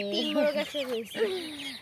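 Farm chickens, mostly roosters, clucking close by in a short run of throaty, rising and falling calls, several overlapping birds heard in quick succession.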